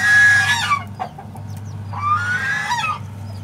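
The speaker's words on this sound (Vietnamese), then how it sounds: "Ba con ngỗng nãy tụi nó kêu" Three geese call loudly and close by in two honking bursts with a short gap between them, heard beside a Kubota DC60 rice combine harvester at work in the field, whose low engine hum runs underneath.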